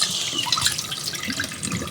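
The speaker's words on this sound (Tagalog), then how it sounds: "Yan, malagyan na ng tubig" Water is poured onto mung beans in a bowl to wash them, a close, steady splashing and trickling pour with bright bubbly drips throughout.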